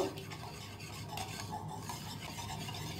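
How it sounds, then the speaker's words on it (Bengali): Yogurt is whisked with a little strained milk in a bowl for misti doi, giving a continuous close scraping, swishing stir with faint clinks against the container and no talking. "ছেঁকে একটুখানি দুধ দিয়ে দইটাকে আরও একবার দুধের সাথে ফেটিয়ে নেব"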